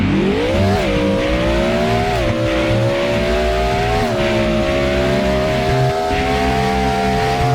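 Game car engine in Roblox Car Dealership Tycoon during a brake test, a loud steady drone that rises, dips and shifts pitch several times, with steady harmonics and no talk.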